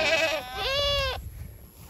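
A goat bleats twice in quick succession, loud and close, the second call longer and wavering, followed by quiet outdoor background.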